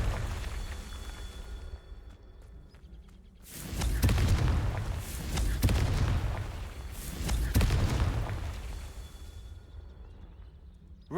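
Three heavy Confringo spell blasts from Hogwarts Legacy boom in succession about two seconds apart, each a loud broad burst with a rumbling tail over quieter game ambience.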